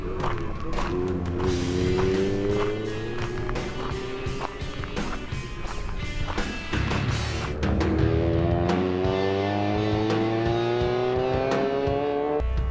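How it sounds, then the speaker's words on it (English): Small, lightweight drift car on a track, its engine revving hard in repeated rising sweeps with rapid shifts and throttle blips, loud and close, tyre squeal mixed in and no talking. "Car's got a nice power band and actually a lot of grip for such a small, lightweight car"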